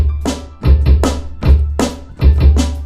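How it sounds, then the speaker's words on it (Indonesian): Electronic drum module built into a guitar playing its normal drum kit preset: a loud, steady groove of punchy kick thumps and snappy snare hits, close and alone without speech. "ini pakai suara drum normal seperti ini"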